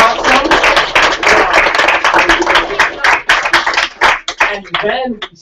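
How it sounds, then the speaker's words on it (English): A small event audience claps in a burst of sharp, close hand claps, with voices calling out over and between them. "we clap and say you're awesome"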